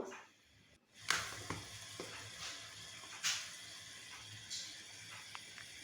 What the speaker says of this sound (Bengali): এখন চুলায় বসিয়ে দিয়েছি রান্নার জন্য।